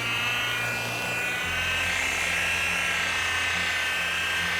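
A machine polisher with a fresh foam pad whirs at a steady high pitch, buffing fine scratches and swirl marks out of 13-year-old car paint, continuous and close with no talking.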